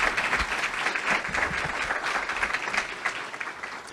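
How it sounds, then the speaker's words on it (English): Applause for students fills a banquet hall, a dense, steady wash of many hands clapping throughout with no voices over it. "Let's give our students one more round of applause"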